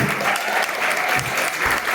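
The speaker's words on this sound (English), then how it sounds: "John and Julia, big round of applause." Short burst of dense audience applause at an evening event, steady and lively throughout, with faint voices mixed in.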